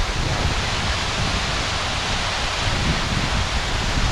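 A small waterfall on a Brecon Beacons trail rushes in a steady, dense hiss of falling water, close and constant with no pauses or voices.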